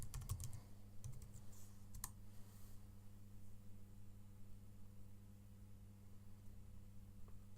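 A password is typed on a computer keyboard with faint, quick clusters of key clicks at the start and around two seconds in. Steady low hum and noise run underneath.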